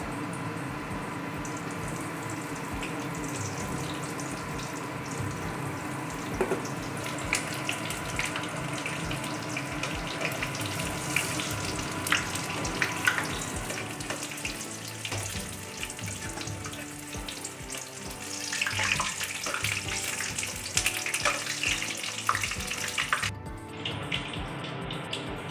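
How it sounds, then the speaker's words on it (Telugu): Batter-coated chillies fry in oil for mirchi bajji, a steady low bubbling sizzle that runs at moderate level throughout, with a few scattered clinks and no talking. "ఇలా మిరకాయలు పెట్టేసి నూనెలో వేసేయాల."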